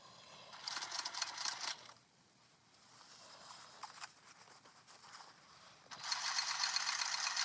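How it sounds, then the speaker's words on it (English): A sewing machine stitching around the corner of a quilted turtle tote, running in fast whirring bursts separated by a quiet pause, fairly soft and close, with no talking. "right now we are just sewing around our next to last corner"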